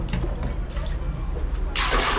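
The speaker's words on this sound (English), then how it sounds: "And that's how you splash the toilet." Water splashed by hand into a squat toilet in Thailand: a steady watery wash that swells into a louder, hissing splash near the end, close and fairly loud.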